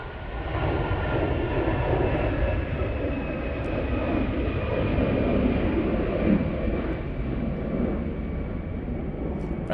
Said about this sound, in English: Aer Lingus now going back to Dublin using their A320.